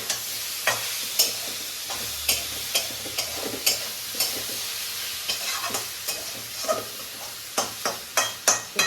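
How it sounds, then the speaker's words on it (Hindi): Onion pakoras (bhajiya) stirred while frying in hot oil in a home kitchen: steady sizzling with repeated sharp scrapes and clicks of the spoon, which grow more rhythmic toward the end. No voices. "फिर भुजिया को हमें चलाना है।"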